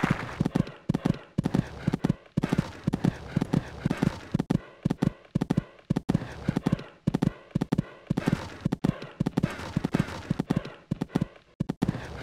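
Hooves of a horse cantering in the game Equestriad 2001 thud in a steady, rhythmic three-beat pattern, close and distinct, continuing throughout with brief gaps between strides.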